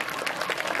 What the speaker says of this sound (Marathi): एकदा जोरदार टाळ्या वाजवा माझ्यासाठी